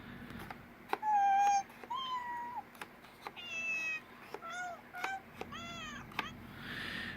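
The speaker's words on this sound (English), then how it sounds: "knob number 1 turns all of these little dudes into cats" A Nintendo Labo Toy-Con cardboard piano plays synthesized cat meows at different pitches, one note after another with soft key taps between them, quiet over a low steady hum.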